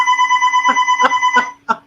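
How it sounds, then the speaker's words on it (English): A phone rings close by with a steady electronic tone, sounding in four short repeated bursts before stopping, with no talk over it. "My phone is ringing."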